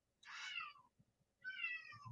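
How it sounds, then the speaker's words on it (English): A pet cat meows twice indoors, with two drawn-out, clear calls separated by a short pause, fairly close, over faint low background sound and no speech. "our cat Ines is talking up a storm right now"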